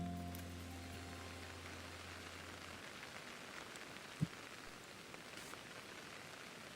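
Steady rain falls in Pokemon Legends Arceus, a quiet, even patter of drops that continues throughout with no voices, plus one brief soft tap partway through.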